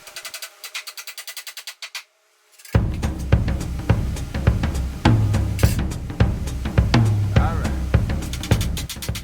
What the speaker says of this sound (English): I had to use a hammer and nails.